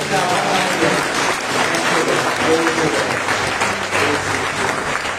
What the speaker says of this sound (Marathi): आपण प्रभू येशूला मोठ्याने टाळ्या